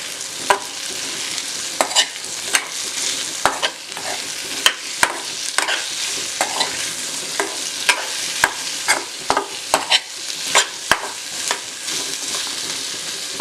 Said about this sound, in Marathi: त्यानंतर मीठ घालूया आणि एकदा परतवून घेऊया।